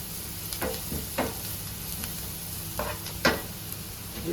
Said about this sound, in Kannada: ಒಂದು ಅರ್ಧ ಟೀ ಸ್ಪೂನು ಅರಸಿನ ಹುಡಿ ಹಾಕ್ತಾಯಿದ್ದೇನೆ. ಚೆನ್ನಾಗಿ ಮಿಕ್ಸ್ ಮಾಡಬೇಕು.